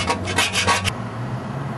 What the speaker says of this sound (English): So now we gotta scrape it all off, try to prime it again.